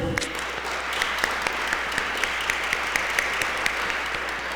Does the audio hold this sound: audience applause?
yes